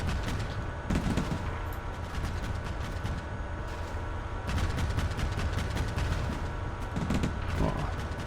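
Battle noise from a T-80 tank in action in the Cold War wargame Combat Mission: Cold War, with dense, continuous gunfire and repeated sharp shots over a rumbling low background, swelling in bursts across the stretch.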